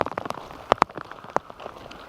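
Rain patters steadily on a surface, with a few louder drops striking close by amid the soft background hiss.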